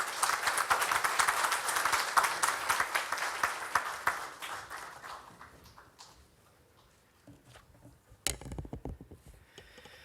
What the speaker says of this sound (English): Please welcome Mr. Bose with a huge round of applause.